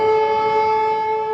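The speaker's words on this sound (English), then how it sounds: "Very often they say the sirens are almost back to back." A loud, steady air raid siren in Ukraine wails with a sustained tonal drone, holding its pitch throughout without pause.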